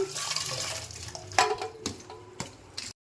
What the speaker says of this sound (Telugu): పోసుకొని కడుక్కోవాలి.